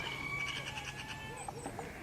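A faint sheep bleat with a wavering, nasal tone sounds through outdoor background noise, a couple of quavering calls at moderate distance during herding training.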